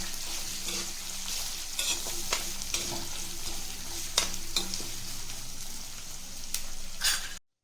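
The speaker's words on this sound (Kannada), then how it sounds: "ಈಗ ಈರುಳ್ಳಿ ಹಾಕೊಳ್ಳೋಣ. ಇದು ಚೆನ್ನಾಗಿ ಫ್ರೈ ಆಗಬೇಕು." Sliced onions fry with peanuts and curry leaves in an oiled pan, giving a continuous close sizzle with occasional scraping and knocking of a spatula as they are stirred, ending abruptly in silence.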